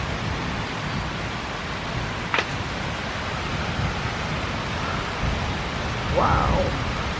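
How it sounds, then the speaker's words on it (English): Low, rolling thunder rumbles steadily beneath a constant hiss of heavy rain throughout a rainstorm, with a brief faint chirp partway through. "You hear that thunder?"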